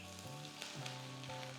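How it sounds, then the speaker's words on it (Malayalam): Grated coconut roasts in a pan with dal, a torn dried red chilli and curry leaves for a yam and plantain erissery, giving off a soft, steady, close sizzle with no talking. "നല്ല ഗോൾഡൻ ബ്രൗൺ കളർ ആകുന്ന വരെ തേങ്ങ വറുത്തെടുക്കണം."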